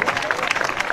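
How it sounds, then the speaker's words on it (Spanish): Lively clapping from an audience at a scholarship ceremony, dense and rhythmic with some crowd noise mixed in. "Pues fuerte aplauso para ustedes"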